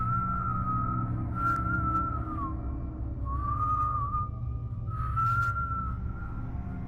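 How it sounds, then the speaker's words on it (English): A single person whistles outside a house at night, a steady tone with a few brief breaks and pitch dips, carried over a constant low background hum. "A whistle, coming from outside the house."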